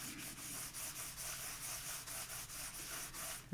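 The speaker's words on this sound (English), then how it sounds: "clean off that embossing powder." Embossing powder being rubbed and wiped off a craft background, a quiet, steady scratchy rubbing in quick regular strokes, close and soft with no talk.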